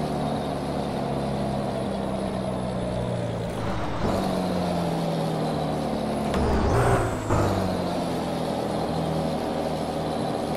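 A heavy truck engine labours steadily up a ramp in low gear, a loud continuous drone with a brief hiss and shift-like change midway, no talking over it.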